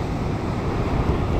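Sea waves wash against a fishing boat in a steady, loud, broadband roar mixed with wind buffeting the microphone, no voices.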